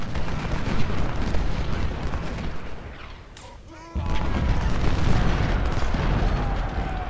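Civil War artillery at the Battle of Shiloh in Ultimate General: Civil War booms in a dense, rumbling barrage. It dips briefly into a quieter lull, then comes back loud and continuous.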